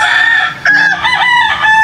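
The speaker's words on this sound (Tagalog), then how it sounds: "So pasensya po sa manok mga kalab," A rooster crows loudly and close by, one drawn-out cock-a-doodle-doo with a second rising call following, heard alone without speech.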